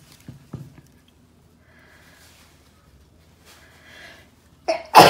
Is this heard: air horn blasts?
no